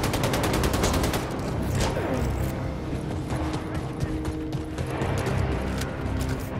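Rapid automatic gunfire in the shooter Wolfenstein II: The New Colossus, a dense burst of repeated shots up front followed by scattered firing and mechanical clatter, with a player talking over it.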